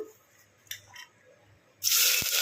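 Cut onion pieces drop into hot oil for a chicken curry: after a quiet stretch with a few light clinks, a sudden loud sizzling hiss bursts up and continues to the end.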